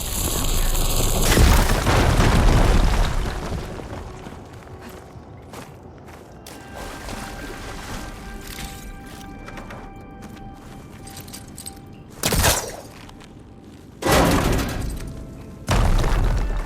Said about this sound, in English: Should be able to blow up that fire gleam. An explosion.